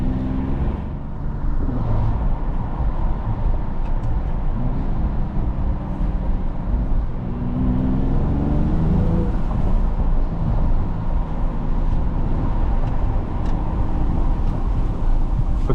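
Mercedes-AMG GLE 53 engine on a night drive, a steady close interior drone of engine and road noise with swelling revs, continuous throughout.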